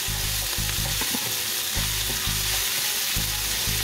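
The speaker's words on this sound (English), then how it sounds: "stir this around for about 30 seconds until it gets fragrant" Garlic and aromatics sizzle steadily in a hot pan while being stirred, for a creamy sun-dried tomato and spinach linguine sauce; a dense, continuous fry hiss runs throughout with repeated low scraping strokes of the stirring utensil, close and loud, no talking.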